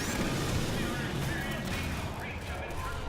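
In Half-Life 2: Episode Two, weapons fire at a hunter as a steady barrage of shots and a rumbling blast. Someone talks over the noise throughout.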